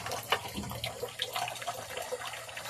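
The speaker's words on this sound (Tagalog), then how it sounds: "Hugasan na ito, hugasan para ready na to." Something being rinsed under a running tap at a sink, a steady close splashing stream with irregular spatter bursts throughout, no talking.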